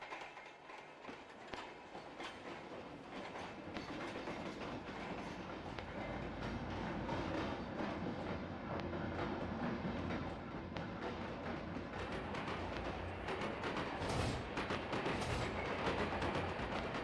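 A train runs steadily in the Train Sim World video game, its rolling rumble and rhythmic wheel clatter building slightly and holding for the whole stretch, with no talk.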